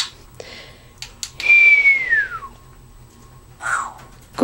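A Timneh parrot mimics an explosion sound effect up close: a single descending whistled swoop that fades into a soft rushing burst, followed by a brief noisy puff, with no talking.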